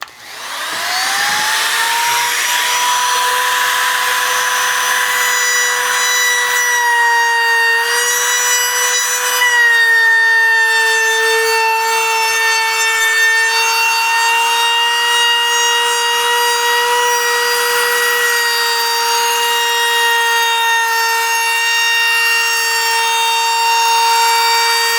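A router spins up and rounds over the edge of a wooden board for a beach decor project, a loud, steady high-pitched whine with a brief dip in pitch as it bites into the wood, continuing alone.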